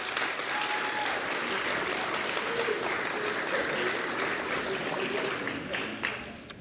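Applause from the audience at a 2022 Harriton High School sports banquet, steady crowd clapping at moderate distance, with some faint voices in the room and a few louder claps as it tapers at the end.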